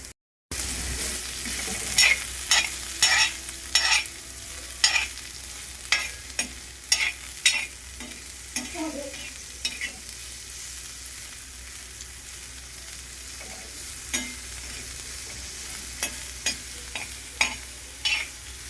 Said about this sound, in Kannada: ಇದು ನೋಡ್ರಿ ಹಾಗಲಕಾಯಿ ಈ ಥರ ಕೆಂಪು ಆಗಾಕತ್ತಾವ್ರಿ ಫ್ರೈ ಮಾಡಾಕತ್ತೀನಿ ರೀ